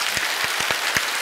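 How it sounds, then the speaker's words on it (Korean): Church congregation clapping during a Sunday worship service, a brief burst of scattered claps with a few distinct louder hits standing out above a soft background wash. "네, 박수 한번 쳐주세요."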